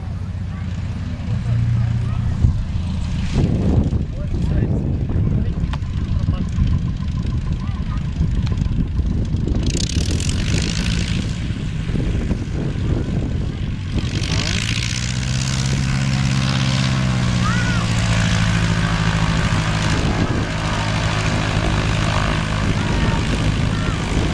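A propeller airplane flies at a 2010 air show in Kostolac, its engine a loud, steady drone that holds for the whole stretch and swells slightly as it passes. Spectators talk over it.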